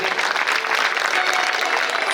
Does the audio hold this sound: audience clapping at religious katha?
yes